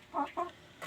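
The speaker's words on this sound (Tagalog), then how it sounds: "Yan yung manok na yun" A chicken clucks close by, three short throaty bursts in under a second, with nothing else around them.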